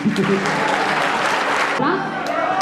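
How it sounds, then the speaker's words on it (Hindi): Audience clapping at a live Hindi song performance, a dense burst of applause with a voice over it and some tonal sound underneath, dipping slightly near the end. "तालियां बजाइए एक बार।"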